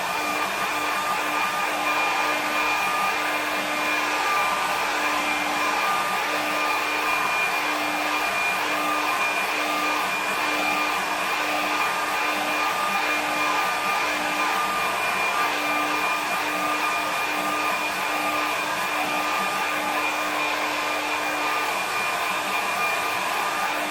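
A hair dryer blows steadily and continuously at close range over watercolour paint on paper, a constant airy roar with a faint motor hum and no pauses.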